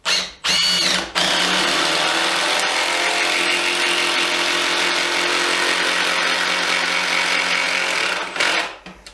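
A Makita hydraulic impact driver on speed 3 drives a screw: a couple of short bursts, then a loud sustained whirring hum of several seconds that cuts off abruptly.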